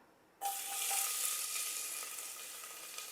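Sliced onion drops into hot oil in a pressure cooker and bursts into a loud, steady sizzle that starts abruptly after a quiet moment and continues close up, easing slightly over time.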